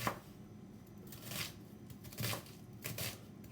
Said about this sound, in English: I'm gonna cut the onion